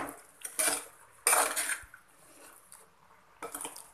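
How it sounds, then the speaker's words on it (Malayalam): A metal spoon scrapes and clinks against a pot, mixing coconut oil into green gram thoran in three short bursts of stirring separated by quiet pauses. "എന്നിട്ട് നമുക്ക് അത് നന്നായിട്ട് ഈ കറിയിലേക്ക് മിക്സ് ചെയ്ത് വയ്ക്കാം"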